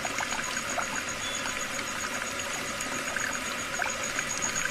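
A wash basin tap left running inside a house gives off a quiet, even trickle and hiss of water, steady throughout with no one speaking.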